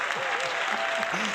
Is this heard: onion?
no